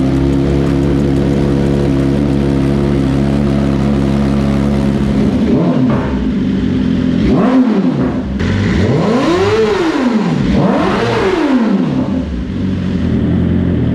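A modified 2021 BMW S1000 RR motorcycle on a dyno, starting from a steady loud idle, then revving hard in several rising and falling sweeps that end in a sustained high-pitched roar.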